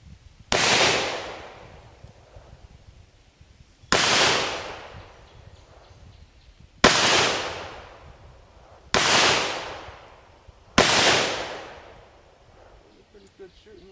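Five loud, sharp .38 caliber gunshots firing X-Treme copper plated bullets over TiteGroup and 231 powder loads, each crack decaying quickly, spaced two to three seconds apart.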